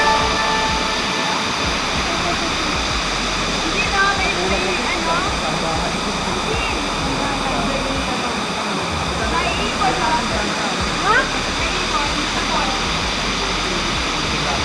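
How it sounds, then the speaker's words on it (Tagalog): Kinabuan Falls roars as a dense, constant rush of falling water, loud and near, with no break across the whole stretch. "Ayan ang falls."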